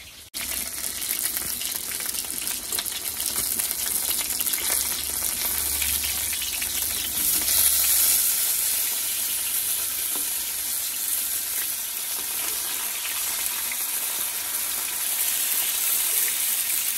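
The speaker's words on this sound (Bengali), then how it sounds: "মাছ ভাজা বসিয়ে দিয়ে তো ওখানে দাঁড়িয়ে থাকতে হবে" Fish fries in a pan with a loud, continuous crackling sizzle that runs steadily throughout, close by and with no talking.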